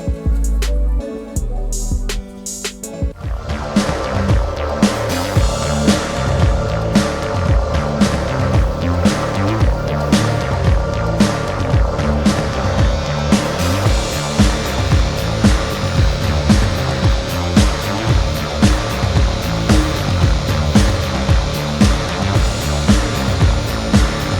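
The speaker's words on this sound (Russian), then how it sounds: "Немножко подшлифую углы и зачищу его до блеска" A power tool sands and polishes the corners of a metal element for a helical satellite antenna, a loud continuous whirring drone with a throbbing buzz that starts after a brief pause and runs steadily, close by.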